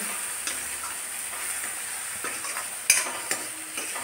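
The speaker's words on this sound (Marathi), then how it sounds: "तर आता कांद्याला छान असा थोडासा गुलाबी कलर येईपर्यंत आपण त्याला छान फ्राय करून घेणार आहोत." Onions frying in a pan for a spicy pigeon-pea dal and onion dish, a steady close sizzle broken by a few sharp clinks of a spoon stirring against the pan.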